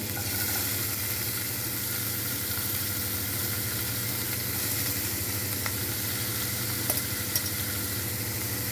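Onion and green chillies fry in a pan for a green bean and tomato curry, a continuous, even sizzle with a couple of faint clinks near the end.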